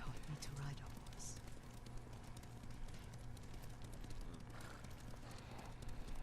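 Horse hooves clip-clop at a steady riding pace while riding in Ghost of Tsushima, soft and continuous under faint background ambience, with people talking quietly over them.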